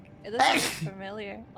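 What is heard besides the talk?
sneeze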